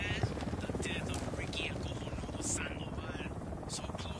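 An Unidad patrol helicopter in the video game Ghost Recon Wildlands, a steady droning rotor wash that fills the scene continuously amid busy game ambience.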